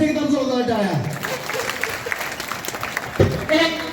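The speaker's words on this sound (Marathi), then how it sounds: "या तिघींच्यासाठी एकदम जोरदार टाळ्या" A crowd at a Home Minister game-show event during the Bhim Mahotsav 2024 festival gives a short burst of applause, framed by an amplified voice speaking before and after it.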